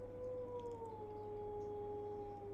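A house cat yowls at another cat outside a window, a long drawn-out wavering howl held steadily and slowly falling in pitch, faint and alone in a quiet room.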